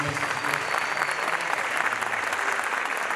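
An audience claps steadily after a tabla solo performance, a dense, continuous wash of applause throughout, fairly close and without a break.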